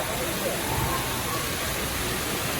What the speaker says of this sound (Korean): 멋있게 떨어지고 있죠 물이